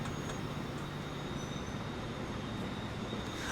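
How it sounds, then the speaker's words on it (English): Trains racing each other in Transport Fever 2 produce a steady, dense rumble of rolling wheels and engines, continuous and even throughout with no pauses. "See these trains racing each other."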